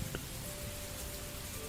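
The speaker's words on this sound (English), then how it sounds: "The rain continued to fall." Soft, steady rain falling as a bedtime-story sound effect, a dense even patter of drops filling the short moment with no voices.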